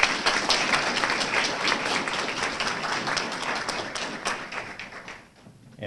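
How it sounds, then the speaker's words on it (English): Steady applause from a graduation audience, many hands clapping at close range in a continuous patter that fades out near the end. "Let's give her a hand of applause again."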